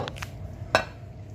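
Rice is served onto a plate, with a single bright clink of spoon against the plate and a couple of softer taps before it, heard over a low background hum.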